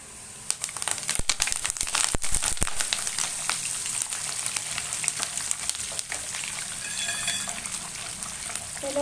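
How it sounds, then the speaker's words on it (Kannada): Curry leaves sizzle in hot oil for avarebele uppittu, a close crackling, spattering hiss with sharp popping bursts, loudest in the first few seconds and then settling into a steady fry with no talking. "ಸ್ವಲ್ಪ ಕರ್ಬೇನು ಸ್ವಲ್ಪ ಹಾಕ್ತೀನಿ ನಾನು"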